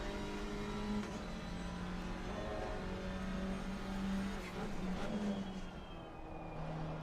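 Alpine race car engine in Assetto Corsa Competizione, racing at Barcelona, holding a steady, continuous drone with a sustained low engine tone that shifts slightly in pitch, fairly loud and alone.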